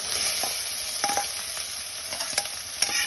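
Finely chopped onions fry in hot oil in a kadhai, a close, busy sizzle broken by scraping stirs and a few sharp clicks of a spoon against the metal, with no one talking.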